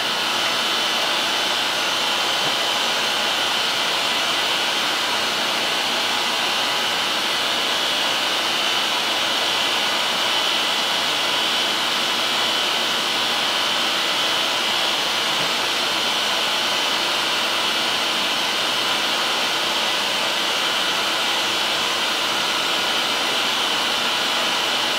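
Steady, loud broadband hiss and whine of a grinder working a precision bushing on a lathe, continuous and unbroken for the whole stretch with no voices.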